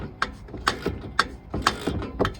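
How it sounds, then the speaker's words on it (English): A hand ratchet loosens muffler bolts on a 2011 Mustang, giving a close series of sharp, evenly spaced clicking bursts, about seven or eight strokes back and forth. "Got a little ratchet to do right here."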